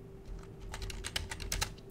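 Linux terminal commands being typed on a computer keyboard, a quick uneven run of light, close key clicks over a low steady hum, no voices.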